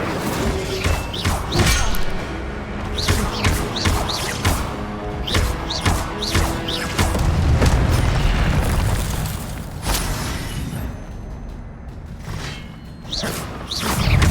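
Fire spells and combat effects from Hogwarts Legacy erupt as loud whooshing booms and thuds, several heavy bursts in quick succession with a rumbling roar in the middle.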